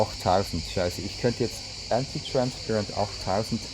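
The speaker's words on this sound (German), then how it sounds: "Ihr hört die Grillen zirpen." Crickets chirp outdoors on a hot day, a steady high-pitched trill running throughout, faint beneath a man's continuous speech.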